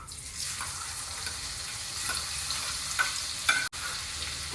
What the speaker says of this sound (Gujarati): હવે તેલ આવી ગયું છે એમાં નાખી દઈશું થોડી હિંગ કાંદા